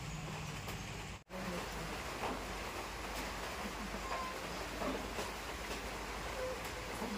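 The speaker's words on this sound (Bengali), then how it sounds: "দেখেছো বাইরে কেমন বৃষ্টি হচ্ছে" Heavy rain falls steadily outside as a dense, continuous hiss, moderately loud, briefly cut off for a moment before resuming.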